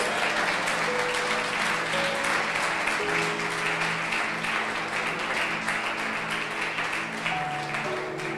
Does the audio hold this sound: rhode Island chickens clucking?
no